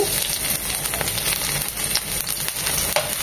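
Chopped garlic and onion fry in hot oil for a spinach and fish dish, a steady, close crackling sizzle with no talking over it.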